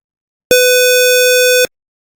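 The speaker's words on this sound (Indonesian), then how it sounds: "dan buzzer akan menyala." An RFID smart door lock's buzzer, signaling denied access, sounds one steady, loud electronic tone lasting just over a second, starting and stopping abruptly, with silence around it.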